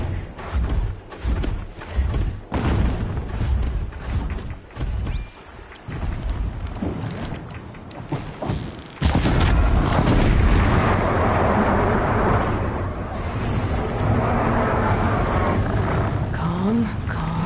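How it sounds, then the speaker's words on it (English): Distant explosions rumble in Horizon Zero Dawn, a series of muffled booms and thuds followed by a sustained roaring wash of sound in the second half, with a dog-like whimper among the background game ambience. "Explosions in the distance."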